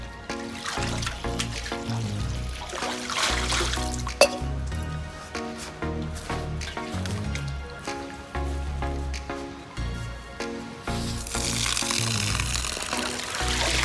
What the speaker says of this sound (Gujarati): બે પાણી ધોઈ દેવું હવે